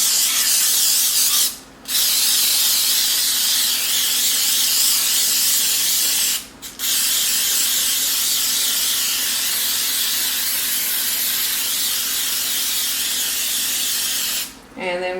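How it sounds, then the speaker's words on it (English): Cooking spray hisses generously into muffin tins in three long, close, steady bursts, each broken by a brief pause before the next. "So I am going to spray each one of these pretty generously because I don't want them to stick."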